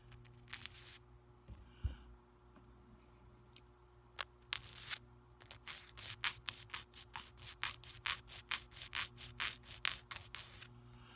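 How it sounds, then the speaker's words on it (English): A nail file drawn straight across a fingernail, held square, making close, raspy scraping strokes that speed into a steady rhythmic series of short scratches after a few slower passes. "hold it square and perpendicular and just draw the file straight across, a few strokes"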